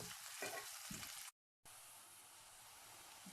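Onions frying slowly over low heat toward golden brown for chana dal pulao, a soft steady sizzle with light stirring, broken by a brief moment of silence.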